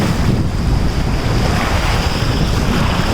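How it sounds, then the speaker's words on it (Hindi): Ocean waves break on a beach at a Bujumbura resort, a loud, continuous roar of surf mixed with strong wind buffeting the microphone. "लहरें अब तेज़ हो रही हैं।"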